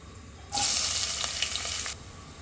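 Onions dropped into hot oil burst into a loud, bright sizzle that holds for about a second and a half before cutting off, with no talking.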